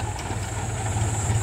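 A John Deere 5045 D tractor idles with a steady low diesel rumble and constant vibration, a continuous even drone close by with a faint higher whine, no voices.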